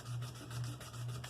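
Hand sanding on a Marlin 336 lever-action rifle action, a steady soft rasping rub that repeats in three even strokes, close and fairly quiet with no talking.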